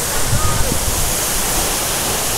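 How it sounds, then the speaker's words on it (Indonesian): Timponan waterfall roaring steadily close by, a dense, unbroken wash of falling water with no pauses. "Air terjunnya tepat berada di belakang saya."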